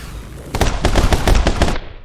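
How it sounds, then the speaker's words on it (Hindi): A rapid burst of gunfire in the video game My Friend Pedro, about eight sharp shots in quick succession, loud and close, after a quiet moment. "मैं क्या आसमान में गोली चलाता हूँ।"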